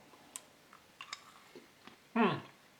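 Someone chews a piece of soft peppermint gum from Spanish military rations, making faint, scattered wet clicks and smacks close to the mouth, followed by a short louder vocal murmur.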